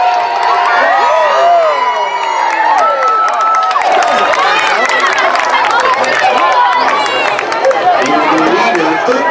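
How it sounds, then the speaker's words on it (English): At a dog jump event at the 2018 Pumpkinfest, a close, loud crowd cheers and shouts continuously, with excited voices layered throughout. "Guys, cheer Rocky on"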